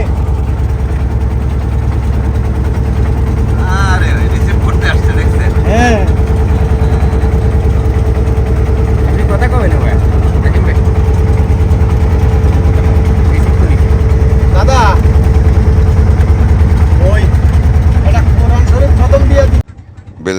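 A trawler's engine drones steadily at idle-like pace on a Sundarbans waterway, a loud continuous low rumble throughout, with faint voices over it before it cuts off at the very end.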